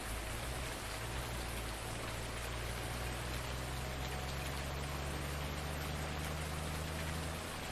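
Rain falls steadily in the video game Farming Simulator 19. It is a dense, continuous hiss of drops that stays even for the whole stretch, with a low steady hum underneath.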